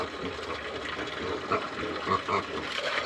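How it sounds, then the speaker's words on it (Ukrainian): Water pours and splashes steadily into a container as fresh water is given to farm pigs, with a few brighter gurgling bursts toward the end. "Налью їм свіжої водички."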